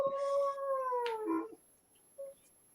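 A dog gives a long, clear howl that slides gently downward and breaks off, followed by a brief quieter yelp after a pause, heard fairly close with no talk.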